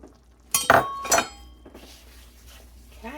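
Minute rice is stirred into a pan, two sharp metallic clinks of a utensil against the pan, then softer scraping and a faint sizzle.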